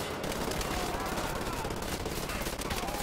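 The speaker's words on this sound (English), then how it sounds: "Time to kill bitches with my mounted gun turret." Rapid, sustained machine-gun bursts from a mounted gun turret in the shooter game Wolfenstein: The New Order, loud and continuous with dense echoing reports.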